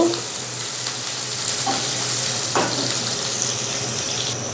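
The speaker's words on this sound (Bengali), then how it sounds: "পেঁয়াজটা ভাজতে ভাজতে আমি দিয়ে দিলাম অল্প কটা জিরে, আস্ত জিরে" Chopped onion and whole cumin seeds fry in a pan for a shrimp vegetable dish, giving a continuous close sizzle with a few brief clinks and scrapes of stirring and no talk.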